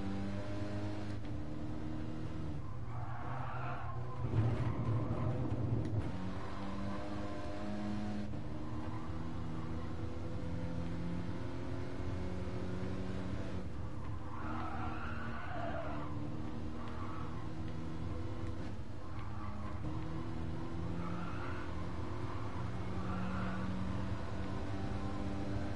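Renault Clio RS race car driving at speed on the Nordschleife, a steady droning engine note with rising and falling harmonics through gear changes, heard from inside the cabin with no talk.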